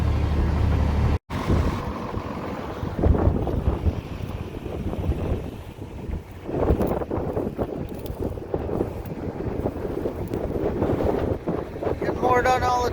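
Strong wind buffeting outdoors while seeding a field with rye, a loud gusty roar rushing over the microphone with surges throughout, and a person talking.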